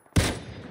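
A single sharp burst of gunfire in an online shooter game cracks loudly and suddenly, then decays into a short ringing tail, with no speech over it.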